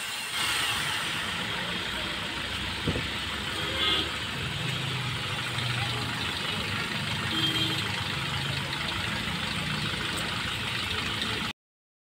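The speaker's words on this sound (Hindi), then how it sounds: "ये देखिए घूम रहा इंजन वाला, लीक नहीं कर रहा" A Hyundai Grand i10 car engine idles steadily after an oil change, a continuous close, even mechanical hum running without talk until it cuts off abruptly near the end.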